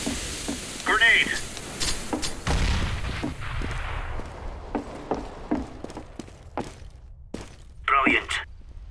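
A grenade explodes on the Inferno map in Counter-Strike: Global Offensive, one heavy blast midway with a rumbling decay, among scattered clicks and shots, with short radio-style voice calls before and after.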